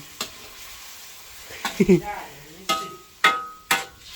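Pork and cauliflower being stir-fried in a pan: sharp scraping stirs and clatters come in bursts at irregular intervals over a quiet sizzle, close and fairly loud.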